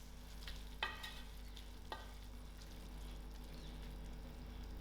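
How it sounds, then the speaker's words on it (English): Mixed vegetables are stirred into creamy chicken in a frying pan, heard as a faint, low sizzle over a steady hum, with two quick scraping strokes of the spoon. "I'm going to add in my cup of mixed veg. And also give this a nice mix."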